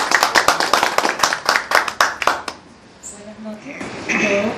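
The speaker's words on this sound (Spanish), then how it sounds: "Den fuerte las palmas." A crowd claps hands loudly at a political party event opening a base in Los Olivos, Lima, the rhythmic applause filling the first three seconds before fading into quieter background noise.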